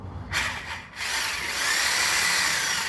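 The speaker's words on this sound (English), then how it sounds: "I'm gonna use a sawzall and cut it open." Reciprocating saw cutting into a large pumpkin: a brief rasping start and pause, then a continuous harsh, loud buzzing cut that holds steady for the remaining seconds, close up.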